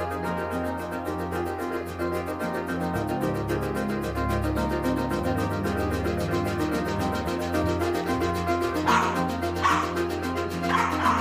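A dog barks and yips amid a steady hum of music or background tone, with short bursts clustered near the end, moderately loud against the continuous backdrop.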